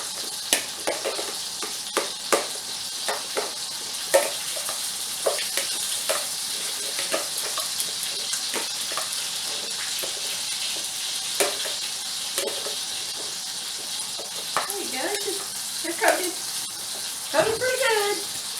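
Onions sizzling in two tablespoons of oil in a pan, a steady bright hiss with scraping and clacking as a utensil stirs them, the stirring grows busier near the end.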